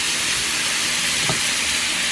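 Breakfast skillet potatoes with black pepper sizzling in a pan, a steady loud frying hiss throughout with a brief stirring scrape in the middle.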